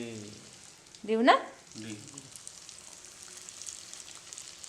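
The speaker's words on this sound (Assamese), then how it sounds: "ফ্ৰাই কৰি আছে" Chicken leg pieces fry in hot oil with a steady, soft crackling sizzle throughout, close by, and someone speaks briefly over it near the start.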